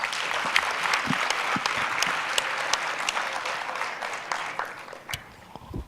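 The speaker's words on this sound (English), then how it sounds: "let's give them one huge round of applause." Conference audience gives a round of applause, steady clapping heard from a moderate distance with a few sharper individual claps standing out, gradually thinning toward the end.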